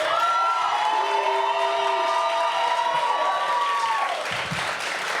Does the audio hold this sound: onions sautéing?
no